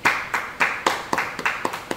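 A church congregation clapping hands in praise during a Bible study service, about eight loud, slightly uneven claps in a steady rhythm over a couple of seconds, close and with no talking.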